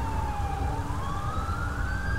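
Wailing police-style sirens from the video game GTA 5 rise and fall steadily over a constant heavy rain roar, with a low rumble beneath, loud and continuous throughout.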